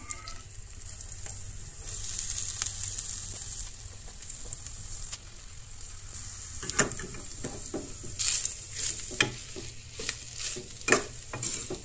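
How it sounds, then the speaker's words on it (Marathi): Soya and onions are stir-fried Goan style in a pan, giving a continuous hiss of sizzling oil under repeated scraping and clattering stirs that grow busier toward the end. "सोय सुद्धा नाही बरी म्हणतात अशी परतून परतून अशी भाजूंक जाय"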